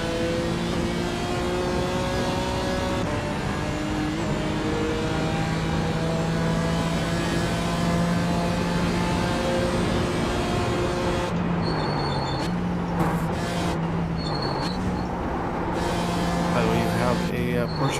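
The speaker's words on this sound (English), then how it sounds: "There's a faster car approaching." Loud, continuous whine of racing engines rising and falling in pitch through gear changes in iRacing at the Nürburgring endurance race, with Porsche Cup cars, and a voice talking over the roar.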